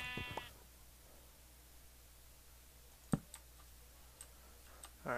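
A Minecraft sheep gives one short bleat at the start, then scattered clicks and soft taps follow over quiet game ambience.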